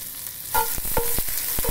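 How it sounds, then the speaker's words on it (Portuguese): Garlic and onion frying in hot oil: a steady close sizzle and hiss throughout, with a few sharp pops and spatters rising above it, no voices. "Coloquei o óleo para esquentar, agora um pouco de alho, cebola"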